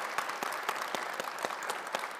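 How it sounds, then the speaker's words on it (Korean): A church congregation claps steadily to welcome someone to the front, a fairly quiet, even patter of many hands with distinct sharper claps standing out, no talking over it. "박수 부탁드립니다."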